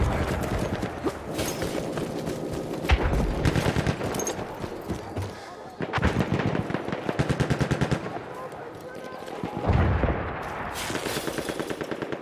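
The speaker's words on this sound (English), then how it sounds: "The enemies are being halted by our artillery barrage." Battlefield 1 battle audio with dense, continuous rapid gunfire and heavy booming blasts rolling through the whole stretch, loud and chaotic, as an artillery barrage and firefight rage on.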